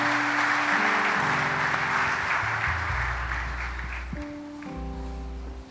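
A church congregation breaks into sustained applause, steady and full throughout, with organ or keyboard notes and bass chords playing underneath.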